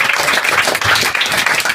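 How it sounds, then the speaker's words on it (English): Audience applause at a live event in Rotterdam greets a speaker being introduced, a dense, steady wash of clapping from a crowd that runs throughout without pause. "Can I get a warm applause for Socrates?"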